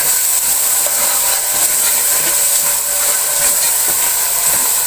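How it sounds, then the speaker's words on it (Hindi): Masala spice mix with salt sizzling and frying in a pan for degi aloo, a steady, loud, continuous hiss with no talk. "अब मसाले को मैं थोड़ी देर भून लूंगी।"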